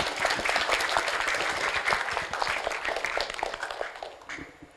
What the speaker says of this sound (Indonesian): Tepuk tangan buat kelas tajwid.